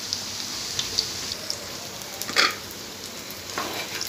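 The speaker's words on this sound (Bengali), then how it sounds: "এখন ভাজা হোক।" Beguni, battered aubergine fritters, fry in oil with a soft, even bubbling hiss, broken by scattered small pops and one louder crackle midway.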